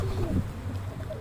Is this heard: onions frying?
no